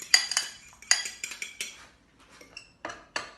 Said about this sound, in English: All you do then is mix it with the fork as long as you can